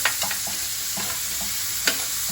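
Onions frying in butter, sizzling steadily in the pan with a few sharp stirring clicks and scrapes spread over a couple of seconds, no voices.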